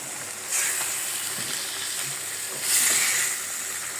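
Fish frying in a spiced paste in a pan, a steady close sizzle with two louder bursts near the start and toward the end, no voices.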